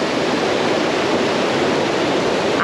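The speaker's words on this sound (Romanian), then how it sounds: "Suntem în drum spre Cascada Mare, cea pe care am văzut-o de sus" The Great Waterfall at Plitvice Lakes National Park gives a loud, steady, full-bodied roar of falling water, close and unbroken throughout, with no voices.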